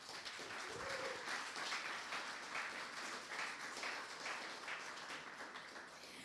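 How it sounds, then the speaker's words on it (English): Audience clapping at a 2023 fundraising brunch for Parkview Services, a sustained round of applause from a sizeable crowd, moderately distant and even, tapering slightly toward the end. "Let's have a huge round of applause."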